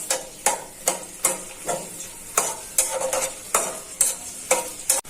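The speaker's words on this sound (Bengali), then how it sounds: "তো পেঁয়াজটা ভালো করে ভাজা হয়ে যায়।" Chopped onions sizzle in hot oil, cut by a repeated rhythm of a spoon scraping and stirring the pan, close and clear, about a dozen strokes.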